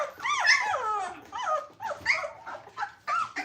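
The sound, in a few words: Cane Corso puppies whimpering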